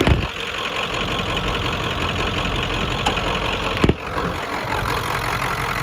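A 1994 Ford F-250 with a 7.3 Powerstroke diesel idles with the hood open, a loud, steady, clattering rumble with a harsh knocking rattle, continuous and close throughout.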